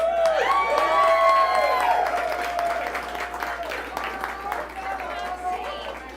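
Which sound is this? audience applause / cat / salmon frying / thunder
audience applause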